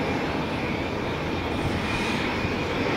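A plane taking off from runway 07 at Tenerife South Airport, a steady, loud, broadband jet roar that holds at constant strength with no break and no voices.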